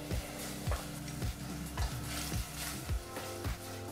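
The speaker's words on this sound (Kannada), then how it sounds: "2-3 ನಿಮಿಷ ಮೀಡಿಯಂ ಫ್ಲೇಮ್ನಲ್ಲೇ ಟೊಮೆಟೊ ಹಣ್ಣನ್ನು ಸಹ ಫ್ರೈ ಮಾಡ್ಕೋಬೇಕು" Tomato pieces fry with salt in a pan over a medium flame, a constant close sizzle broken by regular stirring scrapes about every half second.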